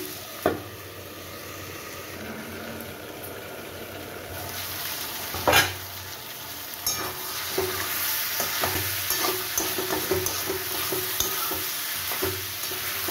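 Potato and pointed gourd masala sautéing in a pan, a steady close sizzle with occasional loud spatula knocks and a busier stretch of scraping and stirring toward the end, no voices.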